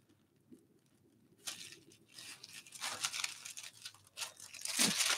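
Tissue paper torn by hand for a collage, quiet at first, then close crinkly ripping and rustling in several uneven bursts that grow louder toward the end, no speech.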